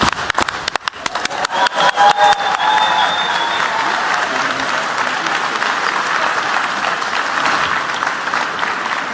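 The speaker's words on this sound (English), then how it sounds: "If you're special and you know it, clap your hands" At the Ig Nobel Prize ceremony, an audience claps on cue in a few sharp, loud claps and then breaks into sustained, even applause with some crowd noise.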